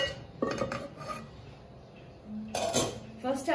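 A cooking pot set onto a stove over medium flame gives a few metallic clanks and clinks close by, with quiet kitchen background between them.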